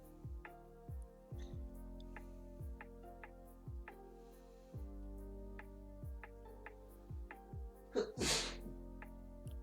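One sharp, close sneeze bursts out near the end, set against a soft ticking and sustained tonal background music.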